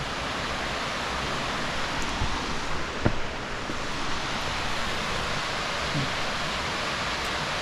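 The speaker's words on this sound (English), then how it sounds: "Sounds like the water is flowing much harder than it typically at." Strong, steady rush of a waterfall near a rural backroad between Rural Hall, North Carolina, and Stuart, Virginia. The roar is a dense wash with no pauses, heard from nearby, with no voices.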